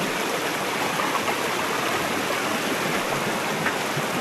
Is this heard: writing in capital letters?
no